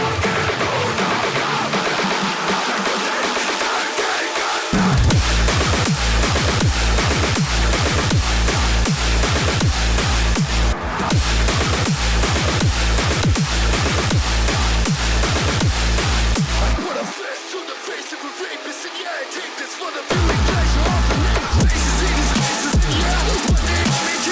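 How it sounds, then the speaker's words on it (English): Heavy dubstep remix of a metal track, loud and dense, with pounding rhythmic bass and drum hits, a brief breakdown before the full mix drops back in. "I came up with a remix that sounds like this now."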